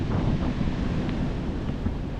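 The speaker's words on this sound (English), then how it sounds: "and the breeze is so nice" A seaside breeze buffets the microphone in low, steady rumbling gusts, with faint surf blended underneath and no voices.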